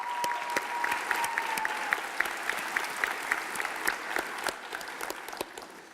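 Applause at a school commencement ceremony, a steady patter of many hands clapping from the audience in a large hall.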